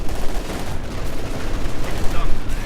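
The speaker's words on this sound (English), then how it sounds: "lots of machine gun fire, Grenadiers, Panther, just so much machine gun fire" Dense, continuous bursts of machine gun fire from the World War II strategy game Company of Heroes 2, a steady crackling battle din with loud, closely packed shots and no clear pauses.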